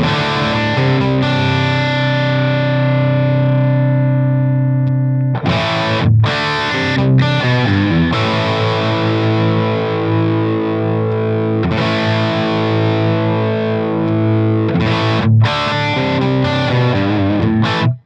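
Heavily distorted electric guitar chords and riffs ring out loudly through a Fractal FM3 amp modeler, with sustained crunchy chords broken by short muted pauses.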